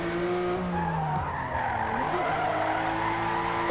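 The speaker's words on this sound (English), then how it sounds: "First drifts here on Forza on the PC" Screeching tyres of a car drifting in Forza Motorsport on PC, played on a wheel, with a steady engine drone beneath a sustained, close skid squeal.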